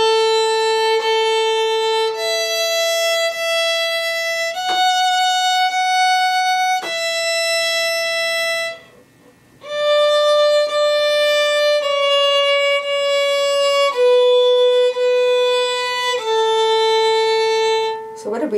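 A violin plays the Twinkle theme in long, sustained bow strokes, each note held steadily with clean changes between pitches and one brief pause midway, loud and close with no talking.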